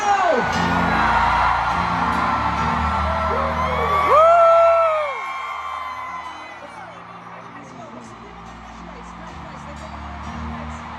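A large crowd at a concert in the Philippines shouts back in unison on cue, a loud sustained roar of voices that swells around the middle and then eases into a lingering murmur.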